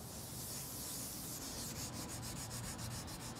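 Wood being sanded by hand, a steady close rasp that turns into quick, regular back-and-forth strokes toward the end, with no voices.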